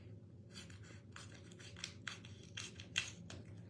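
Scissors snip paper card stock for a floral craft card project, a run of short crisp cuts close by, several strokes in quick succession with a louder snip near the end, no talking.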